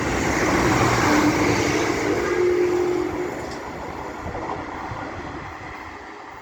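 Class 195 diesel multiple unit passing through Church Fenton station on the East Coast Main Line, a loud steady rumble and rail roar that eases after about three seconds as the train moves away.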